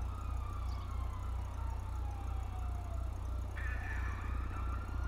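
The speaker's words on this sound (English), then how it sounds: "I hear sirens." A siren wails from an emergency vehicle somewhere off at a distance, faint and rising and falling behind the loud, steady idling engine rumble of a 1995 Mitsubishi Eclipse close by, with the pitch sweeping down and then jumping back up.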